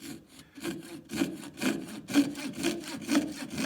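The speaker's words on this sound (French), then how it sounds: "on n'est pas sur un bon sciage puisque je cherche à pousser sur ma lame de scie" A hand saw grinds back and forth through cellulose acetate in steady, uneven strokes, each rasping pass distinct and close, the blade being forced and binding, with no voices.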